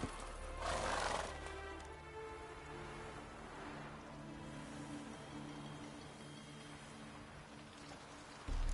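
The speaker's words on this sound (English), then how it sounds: "Not so fast, Roach." Roach, a horse in the video game The Witcher 3, gives a loud whinny near the start, then a steady wash of hoofbeats and ambient game noise continues, ending in a brief louder burst.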